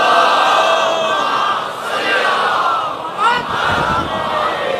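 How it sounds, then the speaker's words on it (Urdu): A large gathered crowd chants salawat loudly in unison at a religious majlis, a dense roar of many voices that swells and dips over several seconds. "ایک اور بلند صلوات پڑھ لیں"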